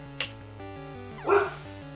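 A dog barks in a room, one sharp bark early and a louder, longer burst a second later, over steady background music.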